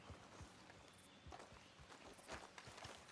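Horse hooves in Red Dead Redemption 2 clopping in a steady rhythm as the horse approaches, soft and fairly close, with no talking over them.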